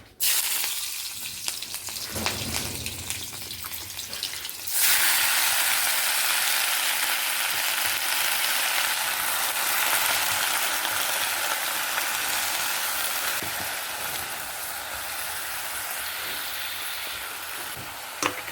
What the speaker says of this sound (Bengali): কড়াইয়ে তেল গরম হয়ে গেছে এই যে এখানে দিচ্ছি কাঁচা লঙ্কা আর হচ্ছে দুটো রসুন